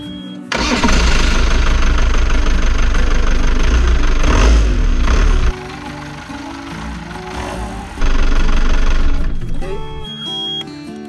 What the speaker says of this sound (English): Tested the engine just to make sure there was nothing catching on the belt.